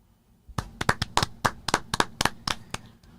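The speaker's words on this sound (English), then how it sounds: "And BBD, we have to give some claps." A quick, uneven run of about a dozen sharp hand claps, close and fairly loud, on a sports talk show; the claps stop abruptly and no one speaks.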